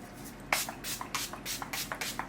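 Makeup setting spray misted onto a face in several quick bursts, soft airy hisses in a loose rhythm, close by with no talking.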